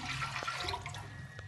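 Water poured from close by into a large cooking pot while making sarson ka saag: a steady splashing rush that eases slightly after a second, with no talk.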